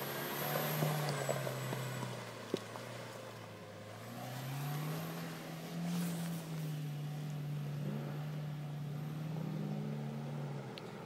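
A jeep engine revs and pulls away, its low drone rising and falling in pitch as the vehicle accelerates and drives on, heard up close and steady over wind noise.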